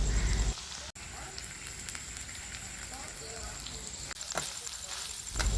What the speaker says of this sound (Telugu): సో ఇప్పుడు ఆ రొయ్యలన్నీ కూడా బాగా ఫ్రై చేసుకోవాలి